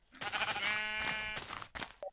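A single sustained sheep bleat from the Minecraft video game, loud and close, wavering for about a second before short clicks and silence.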